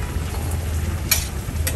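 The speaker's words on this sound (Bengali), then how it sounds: "আর এই ফাঁকে আমাদের জন্য বেগুন ভাজা হয়ে যাচ্ছে" Eggplant frying in mustard oil in a pan, a steady close sizzle with a couple of brief bright crackles, with no talking.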